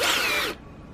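A power drill fitted with an angle-head drill chuck attachment whirs loudly for about half a second, then cuts off abruptly, leaving a faint hum before a brief restart at the very end.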